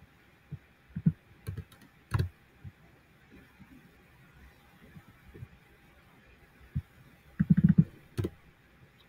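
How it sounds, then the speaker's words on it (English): Python code is typed on a computer keyboard in faint, sparse bursts of soft key clicks, with short clusters near the start and a denser flurry near the end over a quiet background hum. "So I'm going to type that in and then I'll review that here in a second."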